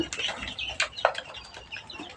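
Layer hens on a poultry farm in cold winter weather cluck and call close by in short, irregular bursts, with no talking.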